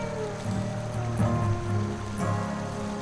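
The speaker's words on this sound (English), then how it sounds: "A swift, cold, pebbly, babbling brook." Swift, cold, pebbly babbling brook in a woodland scene of The Night of the Rabbit, a steady rushing water wash with soft gurgling swells, continuous and close, alone without any voices.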